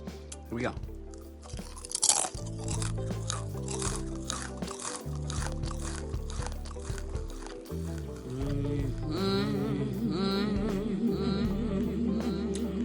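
Close, loud crunching and chewing of thin, crisp pretzel slims, with repeated brittle bites and mastication over a cluttered background of people talking.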